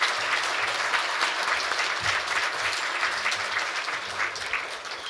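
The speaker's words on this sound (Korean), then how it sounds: "정세균 전 국회의장님을 큰 박수로 환영해 주시면" A forum audience at Korea University claps to welcome a former National Assembly speaker, a steady, fairly loud round of applause from many hands that holds evenly and tapers slightly near the end.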